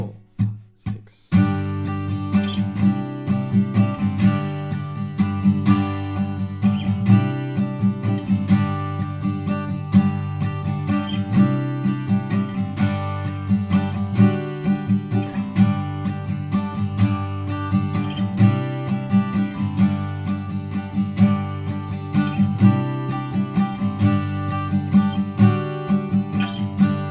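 An acoustic guitar plays verse two of a song, with rhythmic strummed chords running steadily and close for nearly half a minute without voices.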